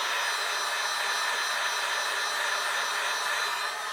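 Heat gun or hair-dryer-style hot air blowing steadily on an iPad 3rd or 4th generation screen to soften the adhesive before prying, a continuous close broadband whoosh with no talk.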